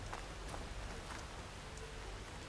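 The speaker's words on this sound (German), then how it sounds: "So, Schnee wird zu Regen." Rain falls steadily in the video game Horizon Forbidden West. A constant soft hiss carries scattered drop-like ticks, and no voices are heard.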